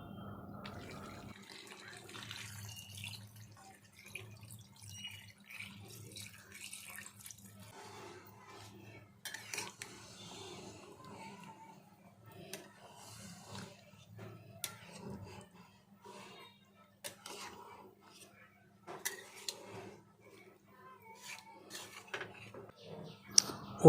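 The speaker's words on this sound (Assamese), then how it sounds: "এতিয়া মই পানী দি দিম।" Water poured from a faucet into a pot of frying mutton and potatoes, heard as a soft, continuous trickle and splash with occasional clinks of the pot, fairly quiet and steady throughout.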